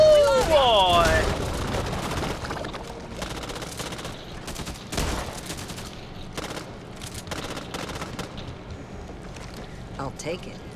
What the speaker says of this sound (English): Why is my gun automatically shooting twice?